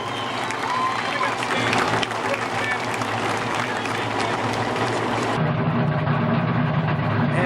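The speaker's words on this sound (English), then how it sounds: "Let's give Dick a big round of applause." Sustained crowd applause at a speedway, loud and continuous throughout, with an engine rumble beneath that becomes more prominent toward the end.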